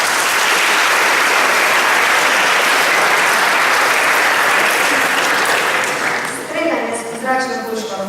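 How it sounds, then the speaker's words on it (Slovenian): Loud sustained applause from an audience fills a school closing ceremony, holding steady before thinning out near the end as a voice begins speaking. "Aplavz, prosim."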